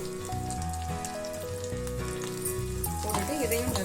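Grated coconut sizzling in hot ghee, a steady dense frying crackle that runs unbroken throughout, heard alone without any talk.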